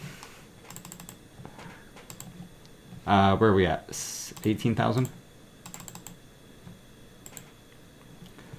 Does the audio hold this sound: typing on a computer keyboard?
yes